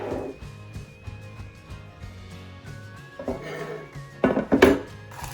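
An air fryer pan is handled in a kitchen: hard clattering and scraping knocks of metal, sparse at first and then a louder cluster near the end, close by, over a faint background hum.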